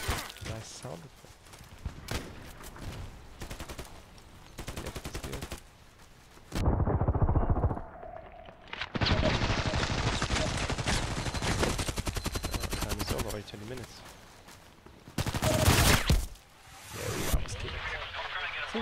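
Rapid bursts of automatic fire from a Vikhr rifle in a video game, shooting out windows: several loud clattering volleys of gunshots with short pauses between them, crisp and close, alongside sharp cracks of breaking glass.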